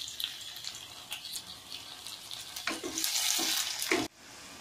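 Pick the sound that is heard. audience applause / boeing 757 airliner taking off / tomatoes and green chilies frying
tomatoes and green chilies frying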